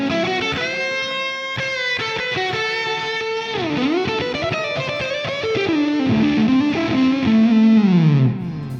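Electric guitar through a Quad Cortex Plexi normal Marshall amp model driven by a Buffalo Effects Germanium fuzz, playing a loud, thick, distorted riff with sliding bends and sustained notes, building to a heavier passage before cutting off.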